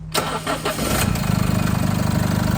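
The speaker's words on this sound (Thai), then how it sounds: "ดูฟังเสียงเครื่องยนต์นะครับ เดี๋ยวมันกระตุกไม่มีอะไรไหมนะครับ เดี๋ยวผมเปิดสวิตช์ก่อน" An Isuzu D-Max 1.9 diesel pickup engine, not remapped, cranks over and catches, then settles into a steady, rhythmic idle clatter close by.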